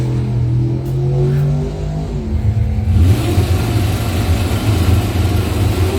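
A Buick Skylark and a Chevrolet Vega line up for a 2021 drag race, engines burbling at idle before a loud, sustained roar of acceleration takes over halfway through, close and dominant.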